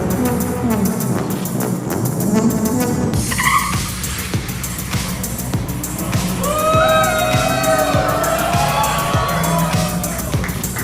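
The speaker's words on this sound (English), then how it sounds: "let's take it to the racetrack and see how does the Cybertruck perform against a Porsche" A Tesla Cybertruck and a Porsche 911 race on a track: loud, continuous engine roar with sweeping pitch changes, tire squeals and passing vehicles, over a steady crowd-like background.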